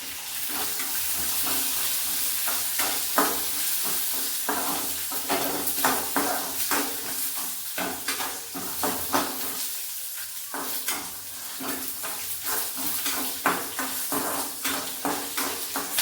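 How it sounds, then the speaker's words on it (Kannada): Peanuts fry with dried red chillies in a little oil in a pan, a steady close sizzle broken by frequent scraping and clattering stirs, with no voices. "ಒಂದು ಸ್ವಲ್ಪ ಆಯಿಲಲ್ಲಿ ಚೆನ್ನಾಗಿ ಫ್ರೈ ಆಗಬೇಕು"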